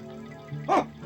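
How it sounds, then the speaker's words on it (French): A single sharp dog bark from a cartoon dog rings out near the end, loud and close, with a low rumble before it. "Pourquoi aboie-t-il?"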